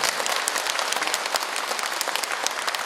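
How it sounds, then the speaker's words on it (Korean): A congregation at a Buddhist consecration dharma service for a Buddha statue breaks into vigorous, crackling applause, many hands clapping densely and evenly at close range for a few seconds. "부처님께 감사합니다 하는 박수 한 번에 어떠겠습니까?"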